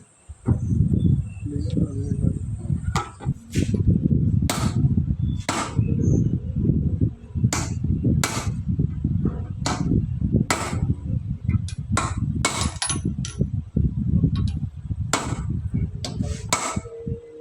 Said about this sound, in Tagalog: Pinupok po para madaling luwagan.